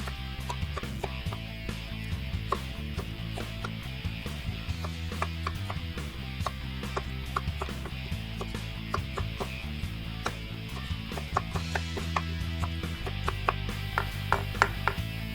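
Raw onion being chopped into big blocks for an Indonesian stew, a long run of quick, irregular knife thuds on a board, close and steady with no talking.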